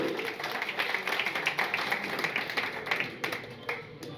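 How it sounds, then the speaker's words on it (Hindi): Crowd clapping at a political program fills the space with a dense, continuous patter of many hands, fairly even in level from start to finish, with no talk on top. "जोरदार तालियां उनके लिए।"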